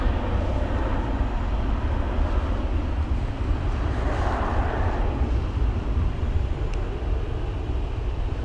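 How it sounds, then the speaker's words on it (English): Boeing 737 airliner passing at Gatwick Airport, a smooth, fairly quiet jet roar that swells slightly in the middle and holds steady, heard alone without talk. "That 737 was so quiet."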